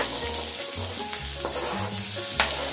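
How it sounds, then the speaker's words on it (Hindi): Capsicum and onion sizzle steadily as they sauté in a pan for savory vermicelli with vegetables, a close, continuous frying hiss with occasional stirring scrapes and no talk. "अब ये कैप्सिकम डाल दें"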